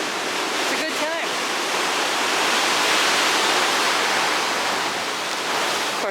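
Ocean waves on the shore at Kona, Hawaii, a loud continuous wash of surf with a brief rougher burst near the start, heard close by with no talking.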